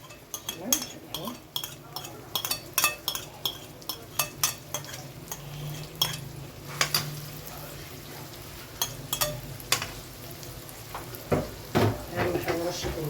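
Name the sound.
onion frying in hot oil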